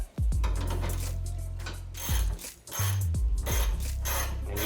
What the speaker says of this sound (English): Make sure your ratchet is ready to go.